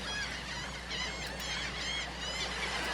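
A bird song sound effect played in PowerPoint gives repeated chirping, warbling phrases over a steady electronic hum, fairly faint and with no voices.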